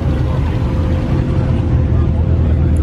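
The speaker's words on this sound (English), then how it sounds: "Wow, that's loud. Oh, turbo on this thing." Loud, steady engine roar from a turbocharged car with a top-mount turbo at a crowded car meet, droning continuously with no breaks and close to the listener, with people talking over it.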